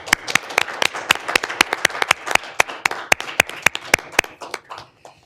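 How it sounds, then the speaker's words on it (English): Attendees at a county board of commissioners meeting clap for Anoka County employees, a sparse room of distinct, sharp handclaps in a fairly regular rhythm that thins out and stops near the end. "Please join me now in a round of applause to commend all of our Anoka County employees."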